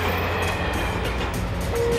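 A train passing, heard over a phone call, a steady, loud rumble of rolling wagons with faint rhythmic clatter filling the whole stretch.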